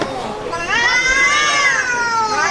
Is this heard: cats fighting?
yes